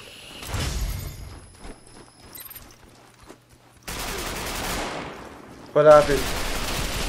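Gunfire in Ghost Recon Phantoms, a string of sharp game shots and bursts that come and go against layered battle noise, with a louder impact near the end and a voice talking briefly.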